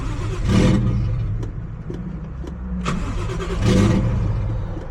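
A Nissan G35 with a 1JZ engine swap cranks repeatedly in rough, churning bursts, straining to catch without fully starting, apparently without the fuel pump running, loud and close.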